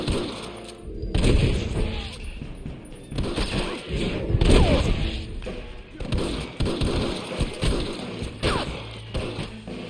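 Gunfire in a Red Dead Redemption shootout: dense, continuous volleys of overlapping shots and mechanical clatter, loud and sustained throughout.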